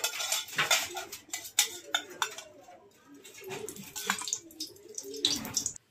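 Metal cookware clinks and scrapes as a wok is set on a gas stove and oil is poured in for vegetable biryani, a run of close, irregular knocks and rattles with quieter gaps.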